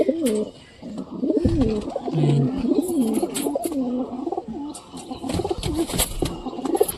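Pigeons coo in rolling, throaty phrases close by, several birds overlapping, with occasional rustling and flutters in the background.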